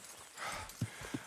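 Horse hooves in Red Dead Redemption 2 clop softly on the ground, a few separate thuds spaced apart against a quiet background, fairly close but faint.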